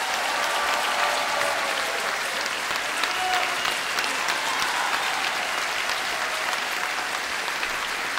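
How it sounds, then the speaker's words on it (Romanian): Loud, sustained applause from a concert audience greeting the conductor at a festive holiday concert with an orchestra, a dense steady wash of clapping that holds at full strength for the whole stretch. "pe care vă rog să-l aplaudați tare"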